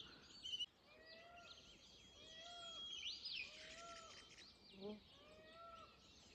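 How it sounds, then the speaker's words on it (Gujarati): Several birds call and chirp in a Himalayan forest near Chehni Kothi village, Jibhi, on a morning, including peacocks, with repeated short rising calls spread across the clip and a brief louder cry near the end, moderately distant. "મોર બોલે છે અને બીજા ઘણા બધા પક્ષીઓ બોલે છે"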